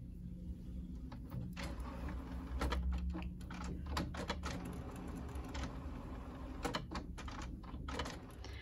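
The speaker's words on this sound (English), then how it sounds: "into my HP Envy photo printer with the backing facing up" An HP Envy photo printer feeds and prints a sheet of printable heat transfer vinyl, giving a steady mechanical whir with repeated sharp clicks and carriage shuttling throughout, fairly faint and with no talking.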